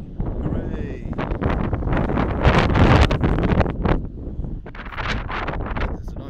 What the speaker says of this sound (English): I'm sorry it's windy again